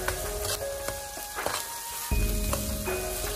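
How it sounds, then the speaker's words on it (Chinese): Chili bean paste (doubanjiang) stir-frying in hot oil in a wok for a sea snail dish, with a steady close sizzle, scraping stirs and a louder burst of frying partway through. "把豆瓣酱给它炒出红油"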